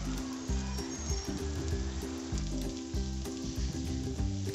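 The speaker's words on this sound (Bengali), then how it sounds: "আমি আবার একটুখানি সাইড দিয়ে দেখে নেব মাছটা ভাজা হয়েছে কিনা।" Hilsa fish fries in a banana leaf, giving a steady close sizzle with crackling bubbles and a rhythmic spatter throughout, with no talk over it.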